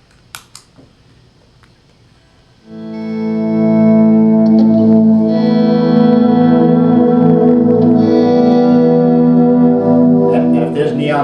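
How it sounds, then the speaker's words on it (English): 1965 Stratocaster electric guitar fitted with DiMarzio Virtual Vintage pickups and run through effects: a few faint clicks, then a swelling, sustained chord with echo and reverb that rings loudly and steadily. "I have a 65 Strat and I had these pickups, DiMarzio Virtual Vintage put in"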